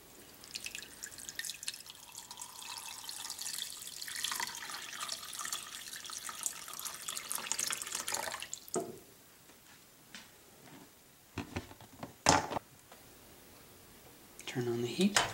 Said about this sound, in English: Now pour some water on there.